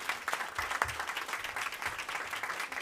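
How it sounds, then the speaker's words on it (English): Audience applause for six high school teams at a forum session, a steady dense wash of clapping from a room full of people, loud and continuous throughout with no voices on top. "A big, big hand of applause to all the 6 high school teams"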